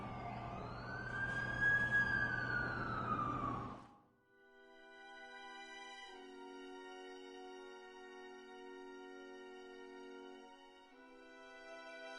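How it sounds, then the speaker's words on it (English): An ambulance siren wails in The Amazing Spider-Man 2 video game, a faint, sweeping rising-and-falling tone that cuts off abruptly and gives way to soft sustained music. "That's the ambulance I called."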